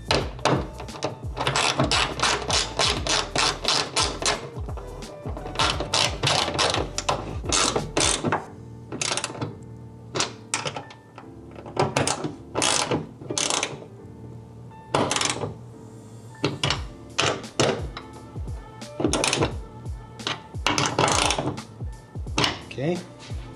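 Ratchet tightening nuts on a GReddy hood strut for a 2022 GR86, rapid close clicking runs repeated in bursts with short pauses between, loud and dry, with a brief spoken remark.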